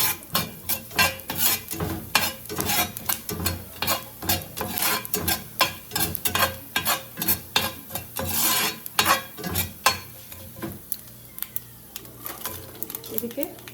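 Fenugreek, cumin, coriander and mustard seeds roast in a hot pan, with rhythmic scraping stirs and a light sizzle repeating close by, easing off toward the end.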